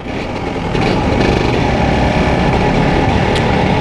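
A Cagiva Mito 125 motorcycle engine revving while ridden, a loud, continuous, buzzing high-pitched drone held steady throughout, heard close and without talk.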